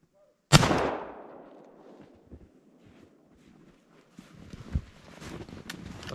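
A Benelli shotgun fired while hunting wood pigeons outdoors: one loud, sharp blast that rolls off into a fading echo, followed by quiet wind noise and some rustling movement.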